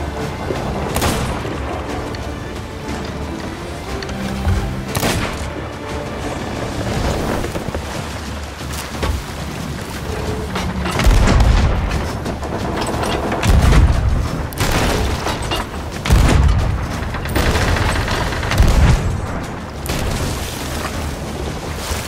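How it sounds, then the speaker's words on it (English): Heavy booming ship cannon blasts in Sea of Thieves, several heavy thuds over a continuous rumbling battle backdrop, loud and close. "Watch cannon fire."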